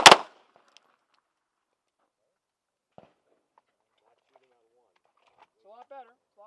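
A single sharp handgun shot cracks loudly at the very start during shooting training, then near silence with faint clicks, and a voice speaks briefly near the end.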